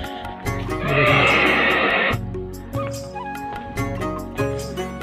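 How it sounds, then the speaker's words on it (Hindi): A village horse lets out one loud, long whinny lasting about a second, followed by rhythmic clopping and rustling farmyard noise nearby. "ये घोड़ा, अब"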